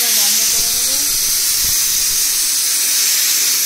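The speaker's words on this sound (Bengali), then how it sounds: "এখানে মেয়েটার মাংসটা বসছে, সিটি মারছে" A pressure cooker whistles as marinated meat cooks inside, giving a loud, steady hiss of escaping steam that runs unbroken for the whole stretch.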